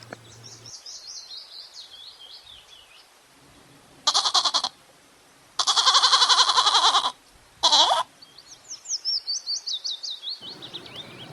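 A goat bleats in several loud, wavering bursts, close and clear, with birds chirping and trilling between and around the calls, no speech.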